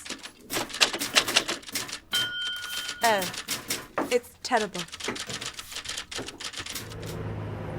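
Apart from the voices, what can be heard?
typewriters typing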